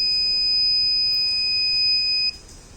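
A collision alert buzzer sounds a loud, steady electronic tone continuously for about two seconds, then cuts off abruptly, leaving faint background hiss.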